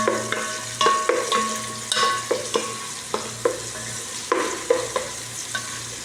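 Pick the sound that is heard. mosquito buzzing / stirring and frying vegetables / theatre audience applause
stirring and frying vegetables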